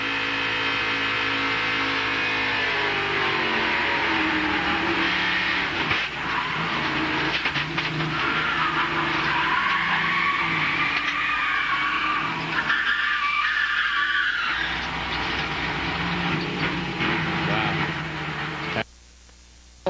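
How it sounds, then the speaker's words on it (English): A NASCAR stock car heard from the in-car camera at the 1998 Touchstone Energy 300, engine roaring steadily, then a long tire skid and squeal with a thud of impact before the sound cuts out. "Now for Matt Kenseth in car camera. He's going to hit something."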